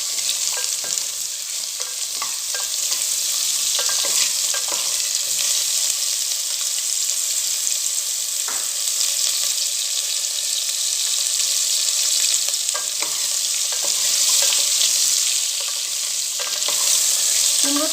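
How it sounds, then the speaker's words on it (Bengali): Potato and pumpkin stirred and fried in a pan for a Bengali pui shaak chochori, a continuous loud sizzle with occasional scraping stirs, close up and without talk. "এরপর আমরা দিয়ে দেবো এর মধ্যে কুমড়ো এবং ভালো করে নাড়িয়ে নেব"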